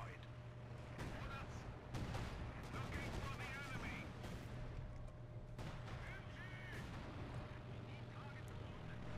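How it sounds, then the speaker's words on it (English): Heavy machine gun bursts and booming artillery strikes from the World War II strategy game Company of Heroes 2, dense overlapping gunfire and explosions rolling on continuously at moderate volume. "that's a fucking heavy machine gun of some kind"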